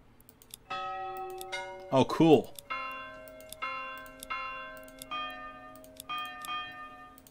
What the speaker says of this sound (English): You can choose what bell sound your church makes.